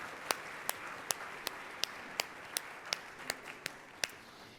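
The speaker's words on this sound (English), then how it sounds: "Can we have a round of applause for everybody who's made this possible today?" Sparse, evenly spaced claps ring out at a panel event on Columbus zoning, about a dozen sharp hand claps at a steady rhythm over a quiet room, more like a few people clapping than full applause.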